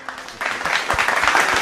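Studio audience at a televised singing competition breaking into applause, starting thin and quickly building to a dense, close wash of clapping.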